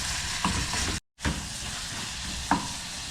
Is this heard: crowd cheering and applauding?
no